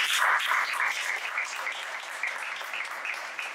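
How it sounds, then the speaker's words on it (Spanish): Audience applause for a panelist at a diversity study launch event, steady dense clapping throughout that fades slightly toward the end. "Así que un aplauso para Nicolás."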